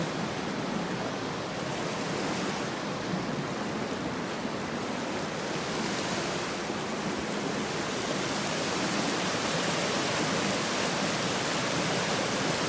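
A creek on a gold-prospecting claim in Washington rushes steadily past gravel bars, a dense, even broadband roar of flowing water with no pauses or voices.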